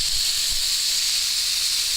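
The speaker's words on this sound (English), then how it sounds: "And here is your steak back to cooking." Steak sears in a hot pan over medium heat, giving a steady, loud, close sizzling hiss that runs unbroken throughout with no voices.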